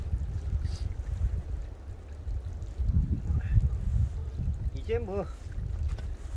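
Strong wind blows outdoors in a mountain valley, a steady low roaring rumble buffeting the microphone throughout, while someone talks over it.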